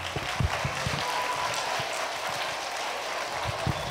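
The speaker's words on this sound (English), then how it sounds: "I just want to say applaud the teachers for being here and making this go." Applause for teachers at an elementary school kickoff rally in a gym, a steady wash of many hands clapping at moderate distance, with a few louder nearby claps and no talk.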